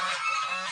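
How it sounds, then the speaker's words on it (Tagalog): A brooding farm goose giving one sustained, loud, nasal honk, close up and alone, lasting under a second. "Ito yung gansa natin, yung naglilimlim na gansa"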